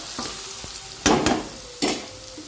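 Mutton fries in oil with chili powder, turmeric and salt, a steady close sizzle broken by a few scraping stirs of a spoon in the pan.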